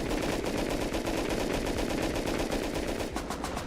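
Rapid gunfire from the survival video game Rust crackles in a dense, continuous burst of automatic shots, loud and steady throughout with no talk over it.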